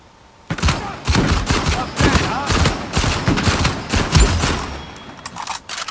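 Heavy gunfire in Uncharted 4 survival mode as enemies are shot, rapid bursts of machine-gun and rifle shots starting after a brief quiet moment, loud and close, continuing in clusters.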